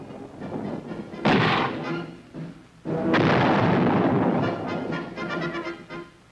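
Artillery fire and explosions from Vietnam War combat boom in heavy, rumbling bursts: two sharp blasts followed by a sustained roar and scattered crackling detonations.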